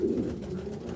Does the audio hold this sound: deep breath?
no